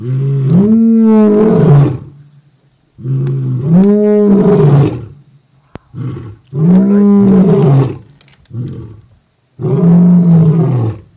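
Male lions roaring at night in a safari camp on New Year's Eve, a series of four long, very loud, close roars, each a deep rising-and-falling bellow followed by grunts, with short gaps between.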